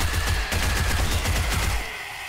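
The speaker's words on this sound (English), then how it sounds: "I really do like this MP5 weapon" An MP5 fires a rapid automatic burst in 7 Days to Die, with loud, evenly spaced shots lasting under two seconds before fading into ambient noise.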